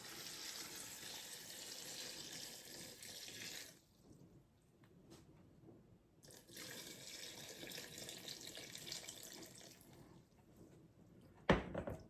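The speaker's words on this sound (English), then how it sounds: "We're going to put in 4 quarts of water." Water runs from a tap into a pot for cranberries, a steady splashing stream that stops briefly midway and resumes, ending with a sharp knock or clunk near the close; fairly quiet and without talk.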